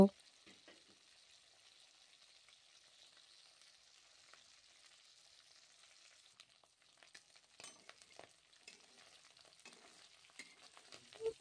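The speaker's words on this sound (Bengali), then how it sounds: "অল্প একটু লবণ আর হলুদ গুঁড়ো দিয়ে এইভাবে তেলে আমি ভেজে নেব" Shrimp coated with salt and turmeric fry in oil with a faint, distant sizzle, while soft stirring clicks and scrapes come more often toward the end.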